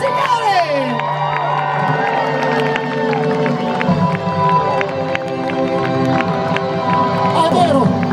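Crowd at a live concert in Bergamo, cheering, whooping and shouting loudly and continuously, with a voice over a microphone speaking above the noise.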